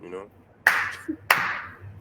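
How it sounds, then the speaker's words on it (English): Two slow, separated hand claps, sharp and fairly close, spaced well apart with quiet room tone between them, done without long fingernails. "Slow clap without my nails being done."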